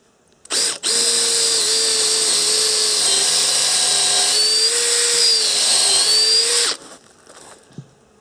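A power drill drives a screw into a wooden gate post for a llama fence gate, one sustained high whine lasting about six seconds with slight pitch shifts, close and loud, ending abruptly.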